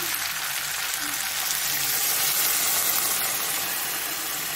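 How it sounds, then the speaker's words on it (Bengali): Hot water poured into sautéed spices in a pan for Bengali shukto, a loud, steady rushing sizzle and bubbling hiss that holds evenly throughout, with no talking. "আমি এবারে গরম জল দিচ্ছি।"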